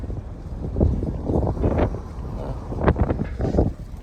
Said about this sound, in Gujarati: મસ્ત વાયરો આવો, કુદરતી વાયરો હેડ્યો આવો